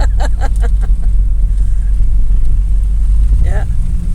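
A 1987 GMC Sierra Suburban truck cruising, its engine a steady low rumble that fills the clip beneath people talking inside the cab.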